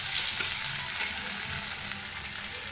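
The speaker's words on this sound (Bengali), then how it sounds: "একটুক্ষণ ভাজা হয়ে যাক, তারপরে আবার আসছি। পেঁয়াজটা ভাজা ভাজা হতে" Onions sizzle in a pan with eggplant, an even, close crackling hiss with a couple of soft utensil taps early on, no talking.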